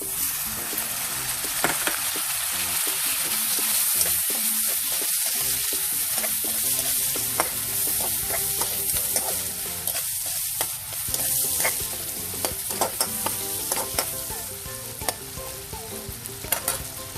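Tomatoes sizzle steadily in a frying pan with a little salt while a utensil stirs and scrapes, a continuous close crackle with irregular stirring clicks throughout.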